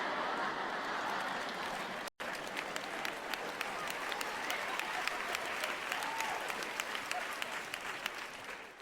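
Sustained audience applause fills a stand-up comedy show, dense steady clapping from a crowd with a brief cut near the two-second mark, then continuing at even strength to the end.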